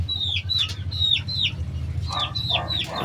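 Grown gamecock chickens, raised from chicks, cluck and chirp in a repeated series of sharp calls, fairly close, over a low steady background hum.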